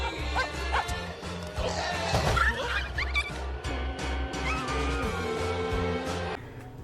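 Dog barking in a Colonel Sanders dating sim video game, a few sharp barks layered over a busy, loud game soundtrack with crashing hits and rhythmic low music throughout.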